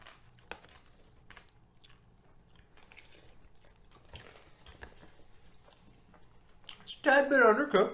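Crunchy chewing of an undercooked rehydrated backpacking meal, Mountain House or Peak Refuel, close to the mic; faint quiet mouth noises first, then a loud burst of crunching bites near the end.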